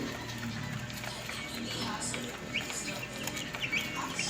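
Colored chicks, about 21 days old, peeping and clucking in a noisy coop with steady background din; scattered chirps rise over the hum, and a person talks throughout.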